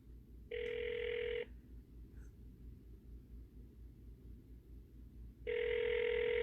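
A phone rings twice in the distance with a long pause between rings, over a low steady hum, and nobody picks up.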